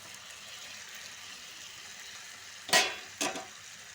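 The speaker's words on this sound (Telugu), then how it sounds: "సన్నగా తరిగిన టమాటాలు వేసి కలిపి కొద్దిసేపు పెడదాం." A soft steady sizzle of potato and broad bean curry frying in a pan with turmeric and garlic, then two quick loud scraping stirs as chopped tomatoes are mixed in, close and without talk.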